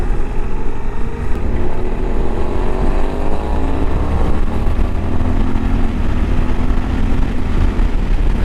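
A Suzuki V-Strom 800DE motorcycle engine under way, with a quick-shifter downshift: a loud, steady roar with wind rush whose pitch shifts as the gear changes, and no voices.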